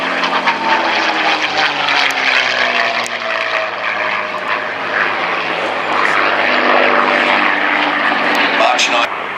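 Propeller-driven World War II fighter of the 84th Fighter Squadron, 78th Fighter Group, flying out of Duxford at the Flying Legends air show: a loud, droning piston-engine roar with shifting pitch as it passes, under a commentator's voice.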